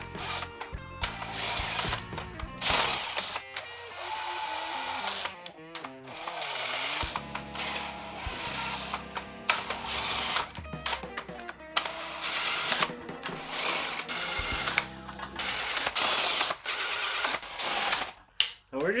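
A socket ratchet works on engine bolts during assembly of a small block Mopar in a barn, with bursts of rapid clicking and mechanical whirring between stretches of someone talking.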